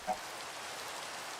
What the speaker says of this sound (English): the rain hasn't given up